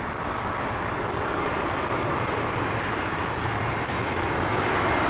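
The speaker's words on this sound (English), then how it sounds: "Unidentified aircraft approaching." A fixed-wing aircraft approaching to land at London Heathrow on runway 27L gives a loud, continuous broadband engine roar that holds steady and swells slightly toward the end, with no voices.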